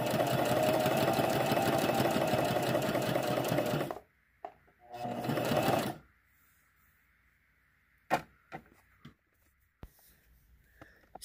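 Fast, even stitching from a sewing machine sewing quilt scraps onto cardboard runs loud for four seconds, then one shorter burst, followed by faint hum and a few soft clicks.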